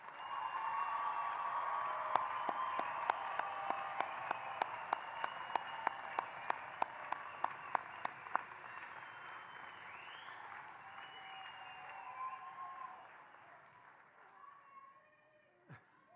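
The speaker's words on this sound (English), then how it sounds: "I think it would be appropriate for one more round of applause for the graduates." Sustained applause from a commencement audience for pharmacy graduates, a broad wash of clapping with sharp regular taps over it, slowly fading out toward the end.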